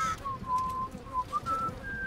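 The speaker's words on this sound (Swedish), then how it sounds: "Sluta vissla!" Someone in a Game of Thrones video game whistles a slow, wavering tune in several sustained notes with short pauses, set against a soft rumbling background.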